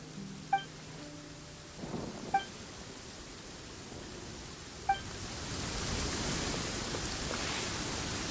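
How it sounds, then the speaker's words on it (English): Rain in the video game Genshin Impact, a soft steady hiss that swells toward the end, broken early by a few short bright chime tones and a low rumble. "I love the sound of the rain."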